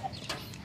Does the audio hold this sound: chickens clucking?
yes